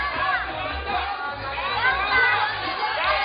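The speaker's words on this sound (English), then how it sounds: "Gamba from the crowd here, which means go on for Rei Sugimoto" Spectators at a World Cup bouldering semifinal in Vienna shout encouragement in a continuous, lively crowd roar of overlapping calls and cheers, fairly loud and close, with a commentator talking over it.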